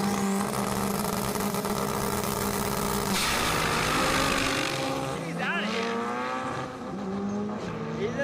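Drag racing cars at a strip, including a Honda CRX and a Honda Integra, roar loudly with rising engine revs and gear changes, a commentator's voice running over the engine noise.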